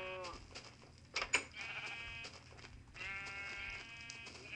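Sheep bleating in Minecraft, several wavering bleats overlapping, with a louder cluster near the middle and another stretch toward the end, heard against quiet game ambience.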